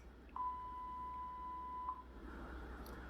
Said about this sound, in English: answer these questions after you hear the beep sound